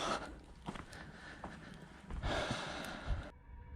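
Heavy, ragged breathing with snorting gasps, close and uneven, ending in a sudden cutoff.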